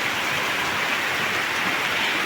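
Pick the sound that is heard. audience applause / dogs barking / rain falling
rain falling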